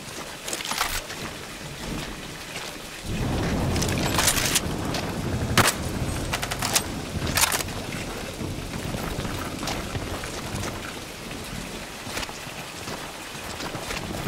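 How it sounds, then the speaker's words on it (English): Machine gun fire from a bunker in Land of War, a World War II shooter, sounds as dense rattling gunfire with scattered louder sharp bursts over a continuous rumbling battlefield background, fairly distant and sustained throughout. "Machine gun fire! From the bunker!"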